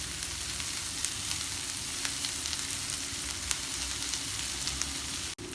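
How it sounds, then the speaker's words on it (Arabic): Diced onions with green bell peppers and hot chili peppers sizzle and crackle steadily in hot oil in a pan, a close, continuous fry with faint stirring clicks and no talking. "بقلبهم بالزيت لحد ما تدبل البصلة معي"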